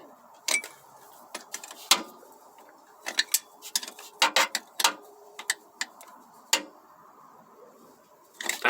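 A hand wrench is turned in short bursts of sharp ratchet clicks, irregular and close, with brief pauses between strokes against a quiet background.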